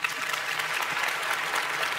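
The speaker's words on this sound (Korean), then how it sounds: "여러분 만족하시면 박수를 한번 보내주시죠." An audience at a forum session claps in a steady, dense burst of applause that fills the whole moment, with no voices over it.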